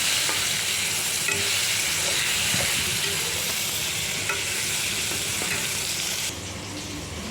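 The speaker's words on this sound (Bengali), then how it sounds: "নুন হলুদ দিয়ে ভালো করে লাল লাল করে একটু ভেজে নেবো" Hilsa fish pieces coated in salt and turmeric fry in a pan, giving a steady close sizzle with occasional scraping stirs and light clicks, no one speaking.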